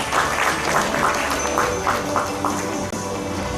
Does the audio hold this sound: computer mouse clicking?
no